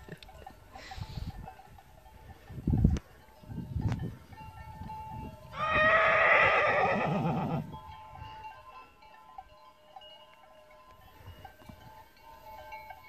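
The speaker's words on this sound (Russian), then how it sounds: "А лошади, увидев, что коровы чего-то испугались, решили тоже испугаться" Horses in an open mountain pasture, stirred up and running after frightened cows, give one long, loud whinnying call midway. A few dull knocks come earlier, and faint outdoor ambience fills the rest.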